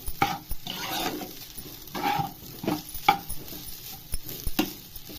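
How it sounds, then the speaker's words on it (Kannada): A spoon stirs and mixes egg rice in a hot pan, producing repeated scraping strokes over a soft sizzle, close and fairly clear with no talking. "ಇವಾಗ ಇದಿಷ್ಟು ಚೆನ್ನಾಗಿ ಮಿಕ್ಸ್ ಮಾಡ್ಕೊಳ್ಳೋಣ"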